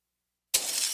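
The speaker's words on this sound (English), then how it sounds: "That's the sound of a house being trashed while a gang of thieves ransack the place." Glass shatters suddenly after a half second of silence, a bright crash with tinkling debris as a house is trashed by thieves, close and alone.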